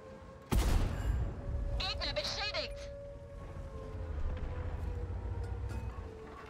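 In the video game World of Tanks, a single loud, booming tank cannon blast lands sharply and echoes briefly, followed by a steady background rumble with faint voices.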